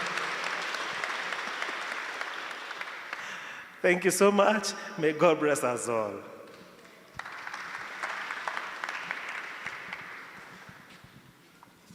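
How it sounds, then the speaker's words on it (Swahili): A church congregation at a PCEA Kiambu Town Church service bursts into loud, sustained applause, breaks off while a voice speaks briefly, then claps again more steadily before slowly fading. "Tumpigie makofi tafadhali"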